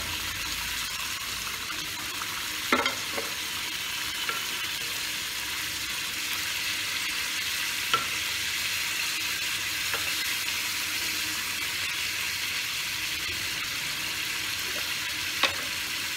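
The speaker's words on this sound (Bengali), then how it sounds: "এই জিরে আর তেজপাতাটা এর মধ্যে ঢেলে দেব।" Whole cumin seeds and bay leaves sizzle in hot oil with the gas turned off, for a boal catfish curry, a steady, even hiss with a few small sharp pops, close and unaccompanied by speech.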